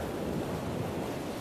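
Sea waves washing in a steady, fairly loud rushing surf, mixed with wind buffeting, continuous with no voices.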